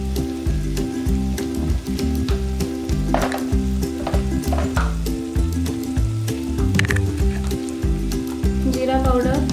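Spice masala sizzles and fries in a pan for an Indian chicken curry, with a continuous crackling hiss broken by occasional stirring scrapes and a voice talking over it.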